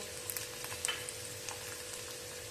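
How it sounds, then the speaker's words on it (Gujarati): Garlic and cumin masala sautéing in a pan over a medium flame gives a steady, close sizzle with a few sharp pops and crackles. "તો આ મસાલાને આપણે 1 મિનિટ માટે સતળાવા દેશું."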